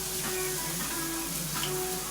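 Kale is stirred in a cooking pot over steady sizzling and frying, a continuous bubbling hiss with faint scraping and a low hum underneath.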